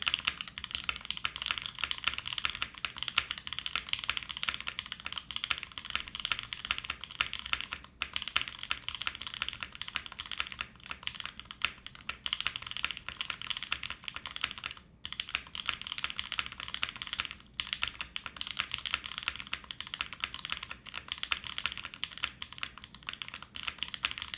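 Steady, continuous typing on a mechanical keyboard with crisp, clacky keystrokes and occasional sharper spacebar hits, close and alone with no voices.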